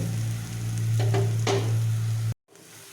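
Steady hiss and sizzle of lentil fritters frying in hot oil, with a few scraping stirs, then a brief cut to silence before the frying resumes more quietly.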